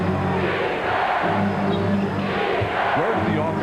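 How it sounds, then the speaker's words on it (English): Dense roar of a basketball arena crowd during a 2002 NBA playoff game between the Utah Jazz and Sacramento Kings, a steady loud wash of voices with no gaps, commentary running underneath. "the crowd right on the edge of their seats."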